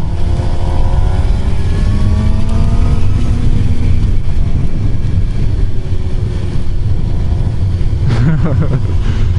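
A 2015 Suzuki GSX-R750 sport bike roars steadily while being ridden, its engine pitch climbing through the gears under heavy wind rush, with a brief sharper rev near the end.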